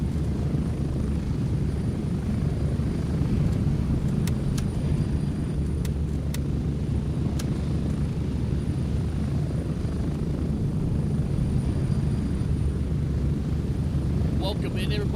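A helicopter in an online multiplayer video game drones steadily with a continuous low rotor and engine rumble throughout, with faint game sounds on top.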